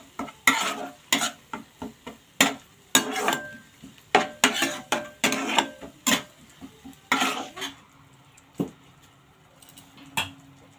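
A spice paste mixed with sour yogurt is stir-fried in a pan, with irregular scraping and clinking spatula strokes over a soft sizzle, close up and with no voices.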